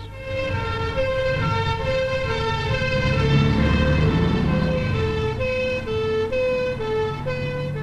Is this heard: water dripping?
no